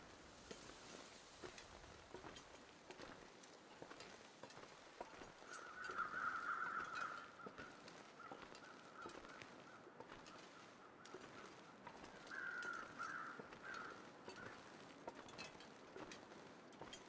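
Crows cawing in the snowy wilderness of The Long Dark survival video game, two faint distant bursts of harsh calls over a steady windy ambience, with no talking.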